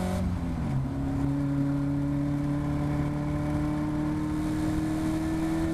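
Caterham race car at Cadwell Park pulling hard in fourth gear, its engine a loud, continuous droning note that climbs steadily in pitch as the car accelerates, close and alone.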